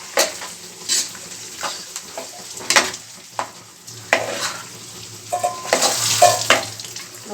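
Chicken biryani mixture with coriander powder being stirred in a pan, a steady scrape-and-sizzle of the spoon against the pot with repeated louder strokes, fairly close and with no one talking.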